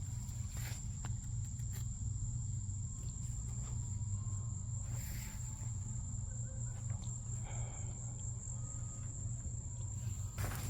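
Insects chirp steadily outdoors in a North Carolina/South Carolina garden, a continuous high-pitched buzzing drone running unbroken under a low rumbling background, with no talking.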